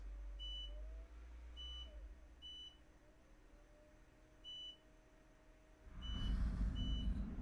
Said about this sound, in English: I keep hearing a beeping sound.